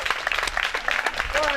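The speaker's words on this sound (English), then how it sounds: "Make it clap for the president!" A crowd claps in a brief burst of applause, with voices mixed in over the clapping.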